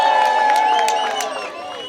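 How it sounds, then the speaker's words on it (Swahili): A crowd at a public gathering in Sake cheers and ululates, with a sustained high trilling and shouting that stays loud throughout, easing off slightly near the end. "Watu wasange shangwe na vigelegele."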